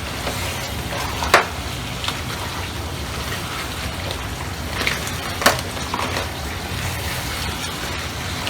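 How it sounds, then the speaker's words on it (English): Black pepper crab being stirred in sauce in a pan, a steady sizzle and bubbling with a couple of sharp clacks of utensil against pan, close and continuous without talk. "mix it well so that the crabs absorbs all the sauce in."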